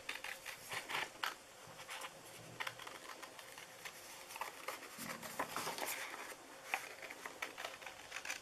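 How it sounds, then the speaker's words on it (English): Small scissors snip quickly and quietly around a paper shape for a treat bag, with a soft, rapid patter of close cuts running continuously throughout. "we're going to just fussy cut this really quick"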